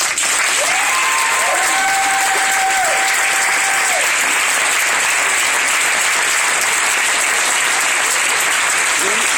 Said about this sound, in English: If you all could give them a round of applause.